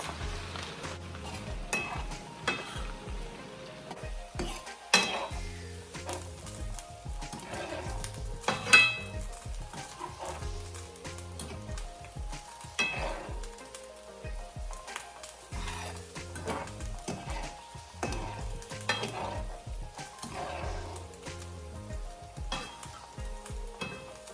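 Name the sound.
aloe vera cooking and stirred in hot oil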